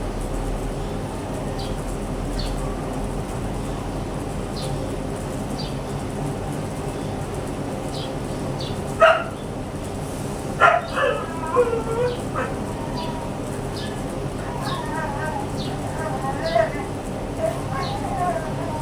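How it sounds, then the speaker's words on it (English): A neighbor's new dog barks and yips a few times at a distance, sharp scattered bursts over a steady background hum, while someone talks nearby. "I think the new dog of my neighbor is kind of noisy."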